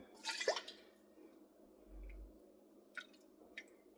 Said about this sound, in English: So I have my pot here. I want you guys to see both, but let's see. So we're going to ladle this out.